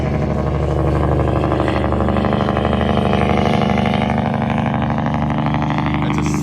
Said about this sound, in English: It's got its Jake brake going.